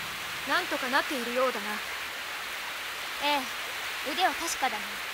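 Steady rain hisses throughout in the anime Muv-Luv Unlimited, with a few brief voices rising over it now and then.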